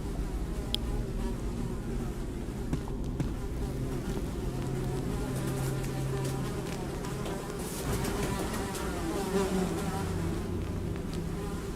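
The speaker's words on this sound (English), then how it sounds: "Despite the buzzing flies, you hear the faintest sound of rushing water" Flies buzzing steadily in a putrid underground pit in the game Secret of Weepstone, a dense continuous drone with faint rushing water beneath, no voices.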